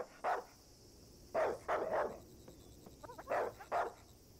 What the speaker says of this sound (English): The dog is barking at a dead bird and he looks really angry.